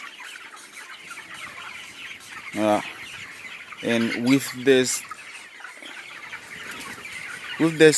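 Broiler chickens, 24 days old, cluck on a poultry farm in Haiti in several short bursts over a steady flock murmur, with someone speaking briefly.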